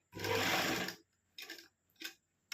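A sewing machine stitches a button placket on a kurti in one long close burst of rapid stitching, then several short stops and starts, with no talk.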